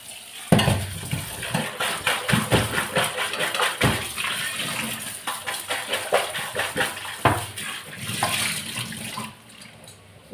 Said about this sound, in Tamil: இதை நல்லா வாஷ் பண்ணிடுவோம்